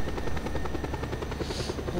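A helicopter in the video game Just Cause 2 thumps with fast, regular rotor beats over a steady engine drone, close and continuous, with no voices.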